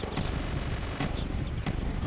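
Rapid gunfire in the video game Deer Simulator rattles in a dense, loud burst of shots that hammers on without pause through the whole stretch.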